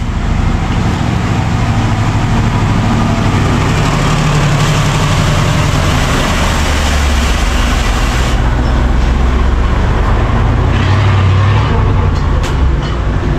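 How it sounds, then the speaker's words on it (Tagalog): A road vehicle rumbles past close by, a loud, steady engine-and-tyre roar that fills the whole stretch with no let-up and no voices. "Yan, mayroon lang dumaan na sasakyan"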